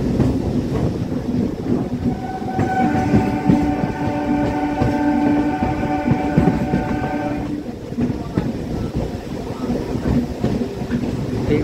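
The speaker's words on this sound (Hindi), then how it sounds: "बस ट्रेन हमारे पहुंचने वाली है बेगूसराय।" A metre gauge passenger train rumbles loudly and steadily as it nears Begusarai station, heard close from on board, with a sustained horn-like tone sounding in the middle of the constant rail noise.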